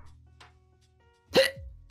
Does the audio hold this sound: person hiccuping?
yes